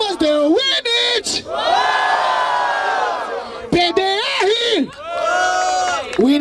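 A crowd at a rap battle in Barueri, São Paulo, roars and whoops loudly in sustained bursts, with shouting voices rising and falling across the clip.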